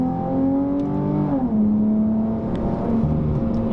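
A Dodge Challenger with a V6 engine pulls hard, its steady engine drone rising in pitch, briefly dipping as it shifts, then climbing again, loud and close throughout.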